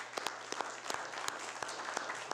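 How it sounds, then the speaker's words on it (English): A small council-meeting audience gives a brief round of applause for a newly appointed member, faint and sparse, with scattered individual claps over a low steady hum. "Everyone give him a round of applause."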